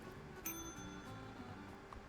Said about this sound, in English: a child that won't stop ringing the goddamn bell